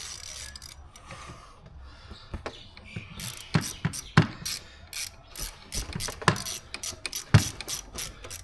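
A hand ratchet tightens a bolt on a Volkswagen MK7 intake elbow: close, uneven bursts of sharp clicking pawl ticks with short pauses and occasional louder metallic knocks.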